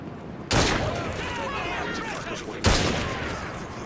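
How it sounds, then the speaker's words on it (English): A volley of gunfire in the video game Assassin's Creed Syndicate, with two sharp, loud bursts of massed shots a couple of seconds apart, each trailing off under shouting voices. "Fire a volley!"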